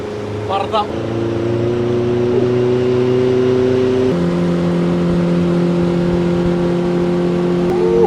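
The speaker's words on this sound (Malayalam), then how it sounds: "നന്ദു ഒരു ടിപ്പിക്കൽ ബോട്ട് റൈഡ് എൻജോയ് ചെയ്താലോ" A steady, droning motorboat engine runs close by for the whole stretch, its low hum shifting pitch partway through as it changes speed.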